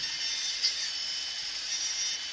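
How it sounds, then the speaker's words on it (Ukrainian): A high, thin whirring buzz holds steady for a couple of seconds as a manicure drill bit lightly grinds a fingernail, close and alone. "Дивіться, слухайте, який звук, коли ми торкаємось нігтя."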